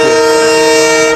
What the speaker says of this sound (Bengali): ফুলতলা থেকে আমাদের ট্রেন কিন্তু রওনা হচ্ছে বেলেডাঙ্গার উদ্দেশ্যে